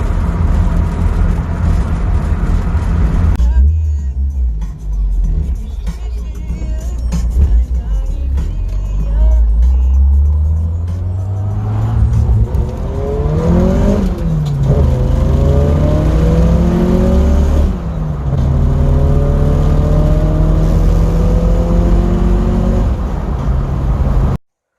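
A 1988 Honda Accord with a straight-through muffler drives down the road, its engine loud and close, revving up through several gears with rising and falling pitch sweeps and the steady rush of driving between shifts.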